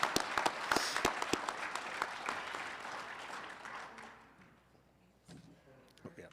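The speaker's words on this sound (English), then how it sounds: "So congrats and a round of applause for all of you." An audience applauds at an Oxford House Missouri gathering, a dense burst of clapping that thins out and fades after a few seconds, fairly faint and heard from a distance.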